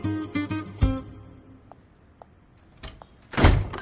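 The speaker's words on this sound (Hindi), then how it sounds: "दरवाजा।" A door thuds and slides during a scene in a Hindi-dubbed romantic film, with a sharp knock-like hit early and a louder rushing bump near the end, with quiet pauses between.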